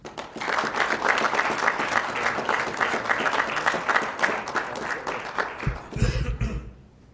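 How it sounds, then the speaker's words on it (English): An audience at a park district board meeting claps for Fred and the Kiwanis, a steady round of applause that fades out near the end, followed by a cough and some rustling. "please join me in a round of applause here for Fred and the Kiwanis"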